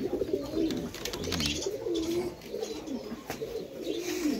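King pigeons cooing in a basket loft at a village farm in Taherpur, Bagmara, Rajshahi, with several birds giving low, rolling coos that overlap close by and go on steadily throughout.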